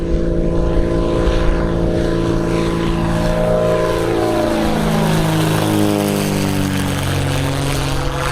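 A propeller airplane, registration N918LN on a test flight after repairs, drones past overhead, its engine tone loud and steady, then sliding lower in pitch as it passes and recedes.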